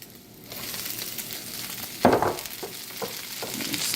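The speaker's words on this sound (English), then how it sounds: "I'm going to saute these guys up here a little bit." Onions hit hot rendered bacon fat and sauté with a bright sizzle, a sharp burst as they drop in followed by steady crackling and occasional stirring scrapes, close and alone.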